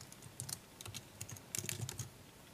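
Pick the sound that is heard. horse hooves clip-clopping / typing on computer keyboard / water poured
typing on computer keyboard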